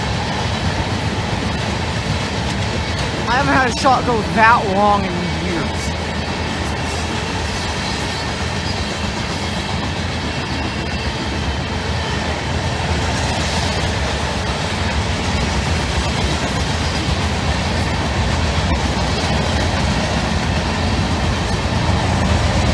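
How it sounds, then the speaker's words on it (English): A CP freight train rolls past steadily and fairly close, with a continuous rumble and wheel noise and a brief squeal of wheels early on. Someone speaks briefly. "that CP train coming out"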